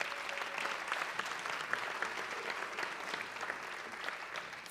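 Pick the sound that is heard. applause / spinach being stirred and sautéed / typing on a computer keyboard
applause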